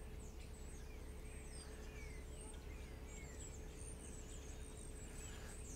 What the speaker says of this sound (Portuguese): Olha aí o som dos pássaros.